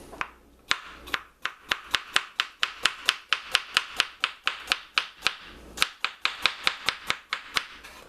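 A knife slices a cucumber with the skin left on, in a home-kitchen cucumber salad with Greek yogurt. A fast, steady run of crisp chopping taps rings out close and clear on a board, with a brief pause midway.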